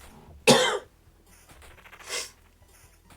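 A single sharp, loud cough near the microphone, followed a moment later by a softer second cough or throat clearing, from someone recovering from a sinus infection, with no talking.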